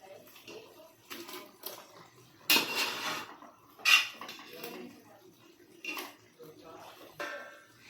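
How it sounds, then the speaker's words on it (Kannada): Metal clinks and clatters sound in separate bursts near a pan of chicken frying in a little oil, as a plate is set over it as a cover, with two sharper clanks and a person talking between them. "ಈಗ ನಾನು ಅದ್ರ ಮೇಲೆ ಒಂದು ಪ್ಲೇಟ್ ಮುಚ್ಕೊಂತೇನ್ರಿ."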